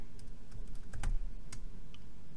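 Fingers typing on a computer keyboard during an online quiz, a close burst of quick key clicks with a heavier tap in the middle, no speech.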